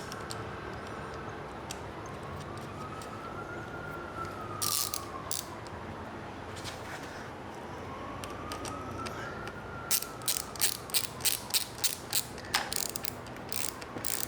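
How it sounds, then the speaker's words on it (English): A ratchet tightens a locking nut on a CNC Racing motorcycle lever, with quiet clicks that come in small clusters and a faster run near the end. A distant siren wails in the background and nobody speaks. "start our nut back on"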